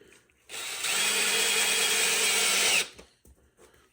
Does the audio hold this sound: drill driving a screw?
yes